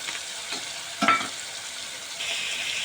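Chopped cabbage and beetroot go into a hot pan and are stirred, giving a continuous sizzle with a sharp clatter of the vegetables landing and the frying growing louder afterward.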